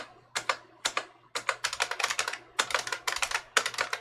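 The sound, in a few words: computer keyboard keys being pressed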